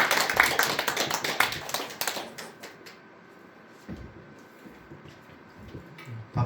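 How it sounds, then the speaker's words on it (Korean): A church congregation at a Sunday Advent mission service claps in welcome for the preacher, a brisk burst of applause lasting about two seconds that quickly thins out into scattered claps and quiet room noise. "우리 박수로 환영하도록"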